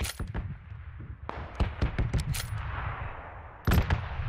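Bursts of rapid automatic gunfire and single shots crack out in the battle royale game PUBG, loud and close, in irregular clusters with a final burst near the end.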